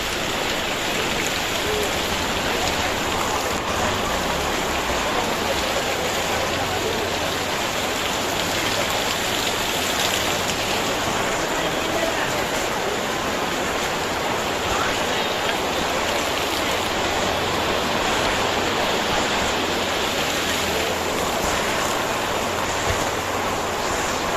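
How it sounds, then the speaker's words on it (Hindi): Heavy rain pours down steadily at an outdoor vegetable market, a dense, continuous hiss of drops on surfaces with a faint low rumble underneath and no pauses. "बारिश काफ़ी तेज़ थी, बहुत अधिक थी गाइस"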